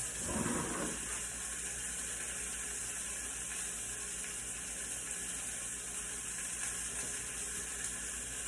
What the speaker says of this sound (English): now they're all in the pan, so you're just going to let them cook